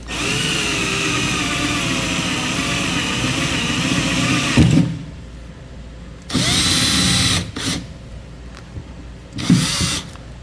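A power drill whines loudly and steadily as it bores through the metal frame of a 2015 Ford F-350 Super Duty truck, then stops; two more short bursts of drilling follow after pauses.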